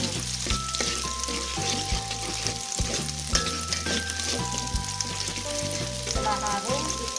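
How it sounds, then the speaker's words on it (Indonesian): Onions sautéing in a pan for stir-fried lamtoro (leadtree) leaves give a steady close sizzle and crackle with spoon-stirring scrapes, over a loud melodic music bed. "Kita tumis dulu bahan-bahan ini. Kita tumis bawangnya"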